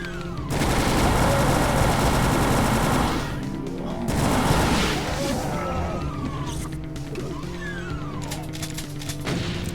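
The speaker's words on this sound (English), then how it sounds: "Give us some plasma, so I'm just gonna go ahead and use it." Plasma gun fire and surrounding combat in Doom 2: TNT Evilution, level Central Processing, forming loud, dense, continuous bursts of rapid shots with crashes and explosions, pausing briefly around the four-second mark.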